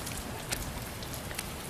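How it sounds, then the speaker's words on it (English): Steady rain after two days of downpour, a dense even hiss of drops with scattered sharper pattering, continuous and close throughout. "it's been raining like this for 2 days already"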